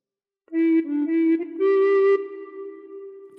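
Recorder plays a short phrase of Row Row Row Your Boat: a few clear, breathy tongued notes in steady rhythm, then one longer held note that fades, close and alone with no talk.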